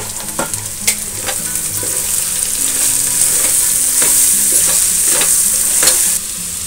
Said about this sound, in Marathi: आता आपण त्याच्यामध्ये कोबी टाकू।